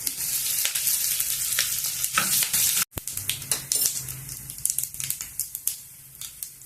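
Dry red chillies and curry leaves fry in hot oil for a chutney, giving a steady, close crackling sizzle with sharp pops and stirring scrapes throughout, briefly cut off once before resuming.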